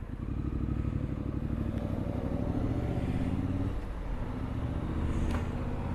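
A 2021 Triumph Street Scrambler with about 1,130 miles, heard while riding: a smooth, steady low engine drone with road and wind rush, continuous throughout.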